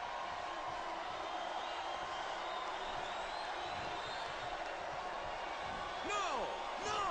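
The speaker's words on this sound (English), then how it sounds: "This capacity crowd is making their opinions known tonight." A capacity crowd at a televised wrestling match between Kane and Edge roars and murmurs steadily in a large arena, a broad, distant wash of voices under commentary.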